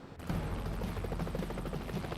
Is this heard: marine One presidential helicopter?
yes